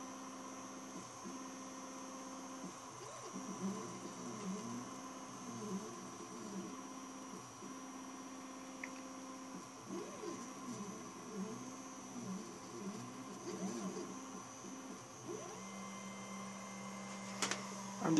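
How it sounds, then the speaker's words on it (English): A DIY laser engraver burns a design into wood, giving a steady machine hum with repeating arcs of stepper-motor whine as the head sweeps back and forth, moderately quiet and continuous with no voices. "So you can see printing of our design."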